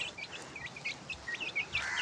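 Small birds in a rooftop pigeon loft chirp in short, bright, repeated calls, a steady flurry of tweets at moderate distance with no talking.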